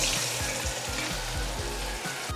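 Eggplant deep-frying in hot oil, a steady dense sizzle and crackle close up, with a faint rhythmic pulsing beneath it throughout.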